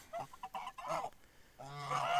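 Geese honking in a pasture, with several short calls followed by a louder, sustained honking stretch toward the end, close and clear without talk.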